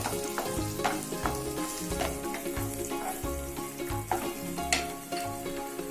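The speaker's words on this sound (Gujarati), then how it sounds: "ડુંગળીને થોડી આપણે સાતળવાની છે." Onions sautéing in a pan for pav bhaji give a steady close sizzle and frying crackle, with regular scraping stirs and a musical tone running underneath throughout.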